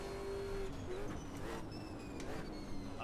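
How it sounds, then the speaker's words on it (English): Race car in Automobilista 2 at Bathurst, a manual sequential-gearbox car in the video game: a steady engine drone at moderate level, with tonal shifts suggesting gear changes and throttle blips. "Man, this thing sounds good, and I also love, driving these manual sequential cars"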